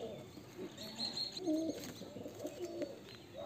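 Pigeons coo softly and repeatedly in a loft of Murshidabad fancy pigeons, low, murmuring calls rising and falling at close range amid faint background noise.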